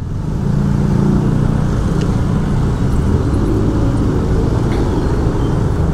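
Congested daytime traffic in Seminyak, Bali, with cars and motorcycles idling and creeping forward, a dense continuous low engine rumble close by, with no talking.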